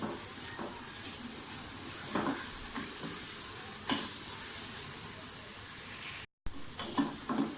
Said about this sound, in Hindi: लहसुन अदरक को अच्छी तरह से भूनें।